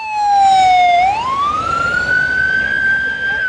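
A loud, close emergency vehicle siren from police and fire crews, one long wail that dips and then rises into a sustained high tone with no talking.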